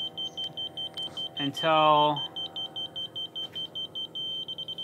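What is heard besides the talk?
laser level receiver beeping near level line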